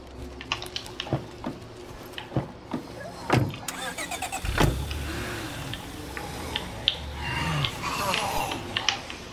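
Car engine in the video game State of Decay 2, played on nightmare mode in Cascade Hills, starting and running amid scattered thuds, clicks and bangs, with a heavy low impact partway through and no talk.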